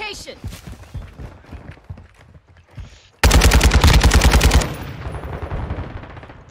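Rapid automatic gunfire from a first-person shooter game rattles out in a loud, sustained burst of about a second and a half, cutting in sharply after quieter game noise and talk, then trailing off into background sounds.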